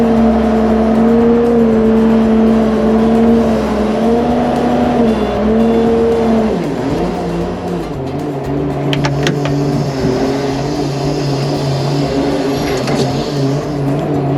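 A radio-controlled square body crawler truck drives in two-wheel steering mode with a steady, whining electric motor hum that shifts pitch as it slows and speeds up, with faint clicks and scrapes from the terrain.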